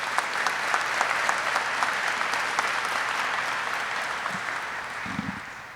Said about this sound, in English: Please join me in a round of applause for this outstanding team.